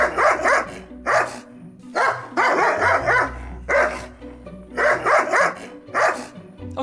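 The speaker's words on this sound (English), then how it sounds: "What do you think this bark means?" Recorded angry dog barking, loud and close, in repeated bursts of two or three barks with short pauses between them, continuing throughout.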